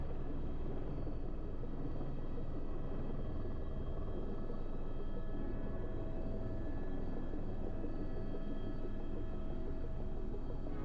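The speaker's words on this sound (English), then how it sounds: "The experience of riding in a helicopter is pretty unique" Inside a helicopter in flight over New Zealand on the way to a heli-biking trail, a dense, steady rotor and turbine roar fills the cabin, loud and constant with no talking.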